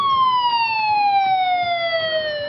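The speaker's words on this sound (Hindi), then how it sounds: "जैसे ही भूकंप का सायरन बजा" A loud, steady earthquake warning siren wails continuously during a mock drill, its tone slowly falling, with faint background rumble beneath it.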